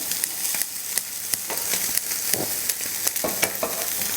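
Butter sizzles hot in a frying pan where lamb is cooking, giving a close, continuous crackle broken by sharp, irregular pops, with no voices.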